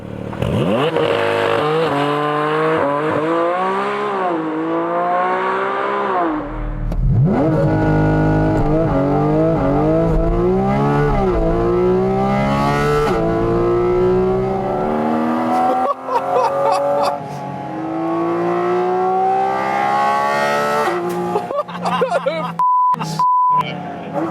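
A Porsche 718 Cayman GT4 RS being driven hard, its engine rising and falling through repeated revving pulls and gear changes, loud and close from inside the cabin, with a brief electronic beep near the end and people talking over it.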